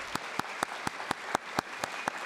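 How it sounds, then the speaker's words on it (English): Applause at a school district event honoring students and their families, heard as a regular series of sharp claps, about four per second, moderately faint against a quiet room. "Let's give a resounding round of applause for them, please."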